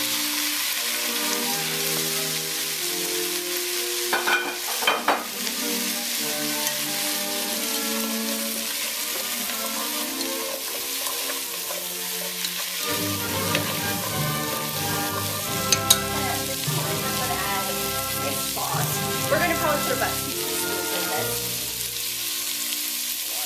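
Carrots stir-fried in a hot pan for Vietnamese/Chinese cabbage rolls, a continuous loud sizzle with repeated stirring and scraping, close up and without talk.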